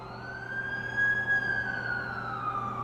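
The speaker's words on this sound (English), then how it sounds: "That's the ambulance I called." Ambulance siren in an Amazing Spider-Man 2 video game cutscene: a single loud, sustained wailing tone that swells and slowly bends in pitch, close and clear, with no talk over it.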